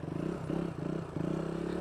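A motorcycle engine revs steadily up close, a throaty rumble rising and dipping in short pulses.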